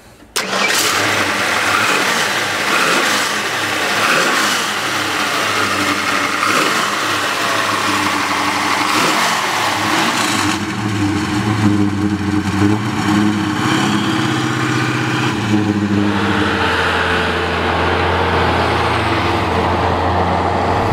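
A red 1969 Ford Mustang Fastback V8 with a five-speed starts and idles with a deep, loud rumble, then revs up and settles repeatedly over a long stretch, close by with no talking.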